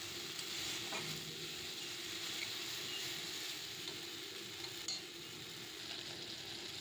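Ground spices are sautéed with already fried onion in a pan, making a soft, continuous sizzle with faint stirring scrapes and occasional clicks, quiet throughout with no voices.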